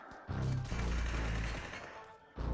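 Gunfire in the battle-royale game PUBG on the Livik map, a loud burst of shots up close, then a second burst begins at the end; no talking.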